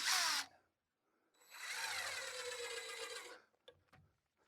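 A power drill fastening a hurricane strap onto a shed truss, with a short burst, a pause, then a longer steady whir of about two seconds, followed by a few faint knocks.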